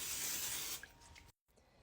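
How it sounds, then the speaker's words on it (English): A short hiss of cooking spray from an aerosol can onto a baking pan, fading into quieter sputters, then a brief silence. "Spray your pan."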